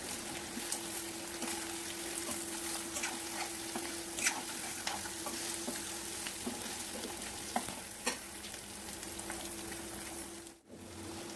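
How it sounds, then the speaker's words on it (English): Diced onion and capsicum pieces frying in a pan, a continuous close sizzle with repeated scraping and stirring clicks, steady throughout before a brief dip near the end. "At this stage, add capsicum pieces and fry them well."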